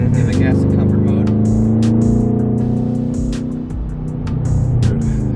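A straight-piped Mercedes GLE 63 AMG V8 revs in comfort mode, a loud, deep, rumbling exhaust note held steady and then easing off slightly before swelling again, close to the listener.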